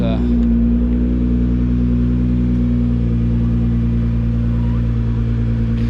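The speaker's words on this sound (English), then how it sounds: "we've got a GTR that's going to be reversing in any second now" A Nissan GT-R R35 sports car idles and creeps in reverse nearby, its engine a steady, loud, low rumble that holds constant throughout without revving.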